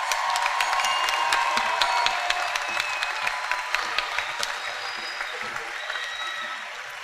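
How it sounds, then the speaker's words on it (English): Steady, dense applause and cheering from a large crowd at a college commencement for business graduates, loud and continuous throughout with scattered whoops and claps, gradually easing toward the end. "a round of applause for the bachelor's degree graduates"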